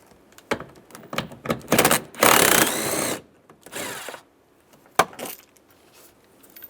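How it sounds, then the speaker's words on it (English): Ratcheting socket wrench with a 10mm socket backing out screws on a 2007-2013 Chevy Silverado interior, several rapid clicking bursts, some long and sustained, with a sharp knock near the end and quiet pauses between. "Using a 10mm socket, take those screws out."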